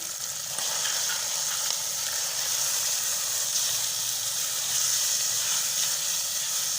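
Chicken pieces frying in oil with salt and black pepper added, a steady, even sizzle and hiss that runs continuously at moderate level with no talking over it.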